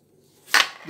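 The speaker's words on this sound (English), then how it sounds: "we're gonna cut it down like this" A knife cuts down through a mammy apple in one crisp, close cut after near silence.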